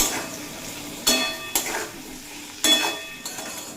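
Boiled Malabar spinach stalks fry in a pan and get stirred, a few sharp utensil scrapes and clinks standing out at intervals over a soft, steady sizzle.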